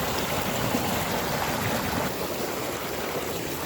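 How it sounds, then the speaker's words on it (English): A stream rushes steadily down in the Grand Canyon backcountry, a constant broadband wash of flowing water close by with no voices. "Coming down to get some water out of the stream so I can filter it for us to drink and cook with"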